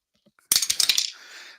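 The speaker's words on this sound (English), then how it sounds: "we drop the dice to make it an official game" Dice for an APBA baseball tabletop game drop onto a hard surface with a sharp clatter, then bounce and rattle briefly before settling, close and alone.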